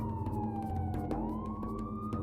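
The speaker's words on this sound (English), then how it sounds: "I could hear sirens wailing from all the way down from the other side of the sewage" A police siren wails steadily, its pitch sliding down then rising again, loud and continuous over low rumbling traffic, in San Antonio.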